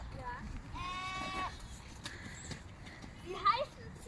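Goats on a family day out give a wavering, drawn-out bleat near the start, followed later by a shorter cry, heard at moderate distance amid outdoor background noise.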